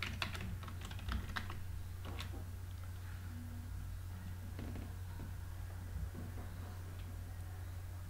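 Computer keyboard keys tapped in a quiet room as an admin username is entered to log in to a Drupal 9 site, a brief run of soft clicks over a steady low hum.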